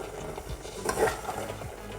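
Melting chocolate mixture stirred in a pot over a low gas flame, with soft scraping strokes and faint sizzling close by, no talking.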